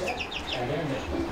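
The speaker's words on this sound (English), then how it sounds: "So those are our five chickens at 20." Five young chickens, about 20 days old, make soft clucks and high chirps close by, with a voice speaking over them throughout.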